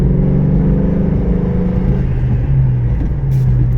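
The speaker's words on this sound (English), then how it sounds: "Rev it out." A car engine revs up to around 3,000 RPM, a loud, close droning hum that climbs in pitch and then holds fairly steady for a few seconds, with no speech.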